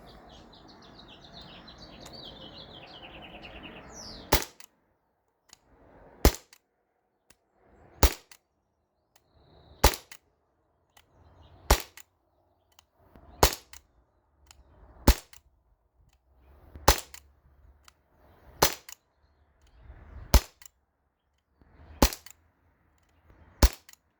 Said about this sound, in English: So two-handed shooting, not fast or anything, just seeing how accurate this is.